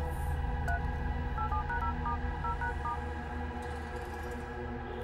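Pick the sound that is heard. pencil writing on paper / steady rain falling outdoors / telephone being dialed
telephone being dialed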